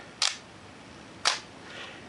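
A Minolta X-570 camera shutter fires twice about a second apart, each a crisp close mechanical snap with nothing else around it.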